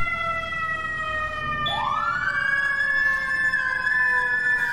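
A fire engine siren from FDNY-style Engine 32 in the EmergeNYC game, its steady electronic tone joined by a rising mechanical wail that climbs and holds, loud and near.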